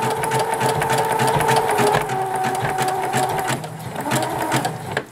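Zigzag stitching on a sewing machine joins coiled clothesline into a trivet, a steady close mechanical whir with rapid needle clatter running nearly the whole time and easing slightly near the end.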